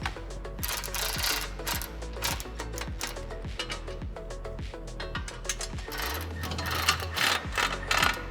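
Ratchet clicking as factory hardware is snugged on Honda Rubicon footwells, dense mechanical clicks in a steady rapid rhythm, close and fairly loud, with a low hum entering near the end.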